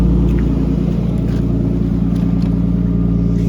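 A Nissan Laurel C33 with a swapped K24 engine drives along, giving a steady, loud low rumble and drone heard from close by, with no one talking.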